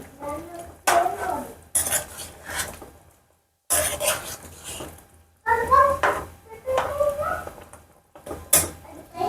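A spoon scrapes and clinks against a pan while chicken curry is stirred at home, in separate bursts of metallic scraping with short silent gaps between, and a voice speaks briefly between strokes.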